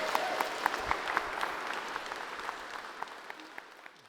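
An audience at an evening JavaScript event gives a warm round of applause for sponsor Yum Brands, with dense clapping that starts strong and tapers off over a few seconds.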